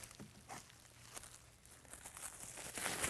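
A blade slits plastic shrink wrap down the side of a printer box, producing faint irregular crinkles and scratchy tears over a few seconds, close up, with no voices.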